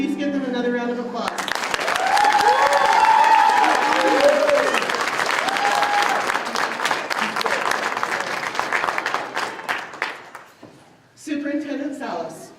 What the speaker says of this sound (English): will you please give them another round of applause?